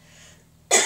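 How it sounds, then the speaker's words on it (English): A single sharp cough from a person in a home kitchen, loud and close, arriving abruptly after a quiet stretch of faint room noise. "Sorry, I've developed a stupid cough."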